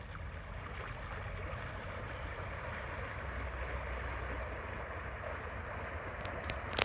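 A 2021 Paddleking boat with a Minn Kota E-Drive electric motor running full tilt on open water, heard as a steady churning wash of water and wind noise with a brief splash at the end.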